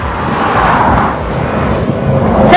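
Traffic roars past on the Florida Turnpike beside a stopped van, a loud, steady rush of tires and wind swelling as a vehicle passes close.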